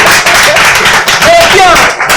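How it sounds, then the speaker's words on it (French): A studio audience applauds on a French televised word-champion quiz semi-final, a loud, dense, sustained wash of clapping with brief tonal and vocal bits mixed in. "Encore des applaudissements, s'il vous plaît"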